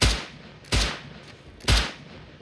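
Three sharp gunshots crack out in Rust, evenly spaced about a second apart, each a loud close punch with a short decaying tail.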